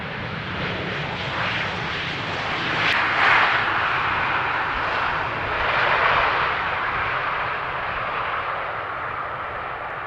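A passenger jet in colorful livery with a purple nose, bound for Dubai, rumbles steadily as it arrives at Amsterdam Schiphol's runway 18R, a broad outdoor roar swelling and easing over about ten seconds.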